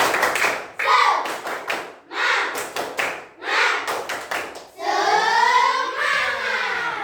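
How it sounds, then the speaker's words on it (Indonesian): Schoolchildren in a classroom perform a rhythmic clapping chant: short groups of sharp, close claps separated by brief pauses, ending in a loud burst of young voices shouting together. "Tepuk semangat."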